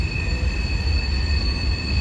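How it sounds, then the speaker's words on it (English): A train rolls past close behind a fence near a campground parking area, a loud steady rumble with a high, sustained wheel squeal running throughout. "There's a train behind us"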